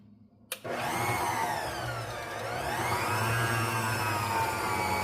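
An electric mixer whirs into muffin batter with one egg and an egg yolk, switching on abruptly after a quiet start, then running as a loud, steady motor drone that dips slightly in pitch midway.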